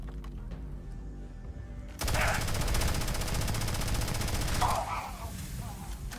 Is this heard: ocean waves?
no